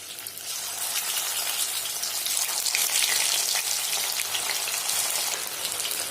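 A batch of chicken pieces deep frying in oil for chilli chicken, a loud dense bubbling hiss that stays close and continuous throughout.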